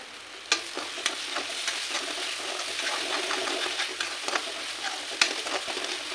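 Vegetables and chicken masala powder fry in hot oil. A crackling sizzle carries on throughout, with sharp taps and scrapes of stirring scattered across it.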